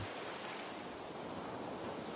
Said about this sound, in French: vous laisser bercer par le bruit des vagues